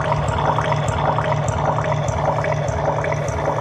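A running river gives a steady, continuous rush of flowing water, fairly loud and close throughout with no pauses or voices.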